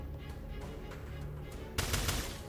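Gunfire in the turn-based tactical game Tactical Breach Wizards: a dense, steady burst of shots over a humming background, growing louder and sharper near the end, with no talk.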